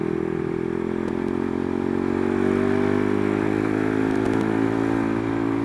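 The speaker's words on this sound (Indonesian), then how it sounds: "Feels ditariknya, motornya langsung mau ngacir, tapi smooth gitu loh, meskipun powernya gede" A modified 2005 Suzuki Satria FU motorcycle with a 230cc engine drones steadily as it accelerates, loud and close, with a slowly rising engine pitch and light rattles, and no talk.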